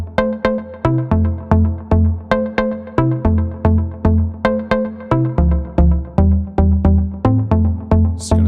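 Hardware synthesizer, a Micro Monster, playing a bouncy sequence of short plucked notes over a deep bass line in a steady repeating rhythm, loud and clean with no talking.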